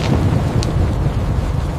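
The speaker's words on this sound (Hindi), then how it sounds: "तूफान की आवाज भर गई।" Thunderstorm sound effect in a spooky village story: a dense, steady roar of heavy rain and rumbling thunder fills the whole stretch without pause.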